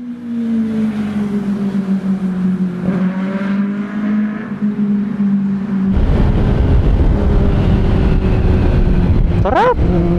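Motorcycle fitted with an original SC Project exhaust revs loudly up close, with a deep bassy note that climbs and falls, then swells into a fuller roar; a person speaks over the early part.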